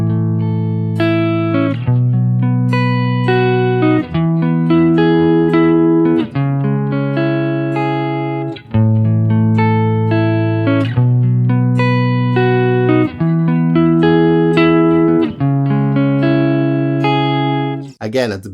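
Guitar strums a song section of barre chords, bright and close, with sustained chords changing every couple of beats and short gaps between changes, loud and with no talking.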